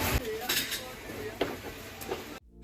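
Solid gold-colored metal spoons clink and rattle against each other while being handled at a market stall in a Yaoundé mall, several bright, sharp clatters at irregular intervals, close by, with faint voices in the background.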